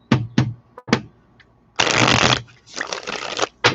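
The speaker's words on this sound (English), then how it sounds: "we'll get some good shuffles going" Tarot cards riffle-shuffled in short bursts, a few quick snaps followed by two longer, dense rustling runs, close and fairly loud with no talking.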